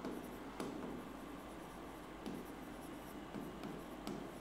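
Pen or chalk writing out a wave optics derivation on interference conditions, a steady scratchy stroking with short taps where strokes start, near and alone with no talk.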